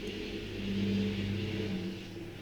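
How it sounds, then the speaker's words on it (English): Large tractors and trucks pass by during harvest season, a low engine rumble that swells to a peak and then fades as the vehicles go past, with no talking. "I'm hearing a lot of big tractors and trucks going by."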